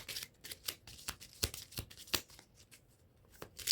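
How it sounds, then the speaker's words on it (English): A deck of tarot cards is shuffled in a quick run of crisp riffles and flutters, close and fairly quiet, with brief pauses between bursts. "I'm going to shuffle one more time."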